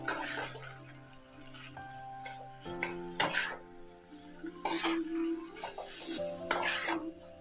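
Chicken mince mixed with ground fennel is stirred in a pan, with a gentle sizzle under repeated scraping and clinking strokes of a spoon against metal. Faint background music or hum sits underneath, and no one speaks.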